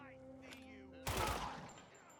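A single loud gunshot in Dying Light 2, played on a Steam Deck, that cracks suddenly after a stretch of quieter game sound and then fades in a short echoing tail.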